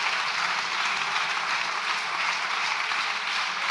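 Applause in the Spanish parliament, a continuous, even wash of many hands clapping at moderate volume, steady from start to finish with no voices standing out.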